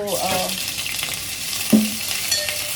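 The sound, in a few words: frying cinnamon, black pepper, crushed ginger and garlic in pan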